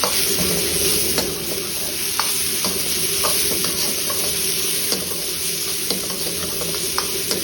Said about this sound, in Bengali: এর মধ্যে দেবো অনিয়ন চপ, রেডি হলো গ্রিন ক্যাপসিকাম চপ আর টমেটো চপ, সব একবারে দিয়ে দিলাম। একটু সতে করে নেবো ভালো করে।